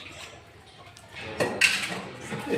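Dishes, pots and pans being washed by hand at home, with faint scraping at first, then louder clattering and clinking of metal vessels toward the end, amid low room noise.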